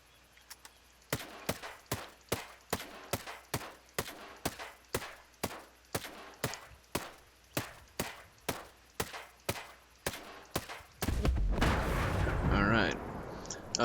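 Assault rifle fire in the shooter game Ghost Recon Breakpoint: about twenty evenly spaced single shots ring out one after another, each sharp crack followed by a brief tail, then a burst of louder noise and a voice near the end.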